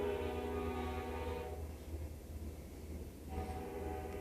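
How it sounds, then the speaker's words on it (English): A passing train rumbles steadily, with a sustained tonal horn or wheel drone that fades out midway and returns near the end, fairly distant and low in level. "Train made me nervous."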